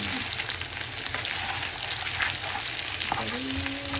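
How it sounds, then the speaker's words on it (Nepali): Chicken and onion fry in a pan with a dense, continuous sizzle and occasional stirring scrapes, close up and steady throughout. "त्यसलाई पनि भुट्नु पर्यो, त्यसलाई भुट्नुपर्छ,"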